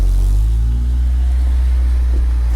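A 230,000-mile Acura RSX with a newly replaced clutch rolls out of a garage, its engine a loud, steady low rumble close by that swells slightly as it pulls away.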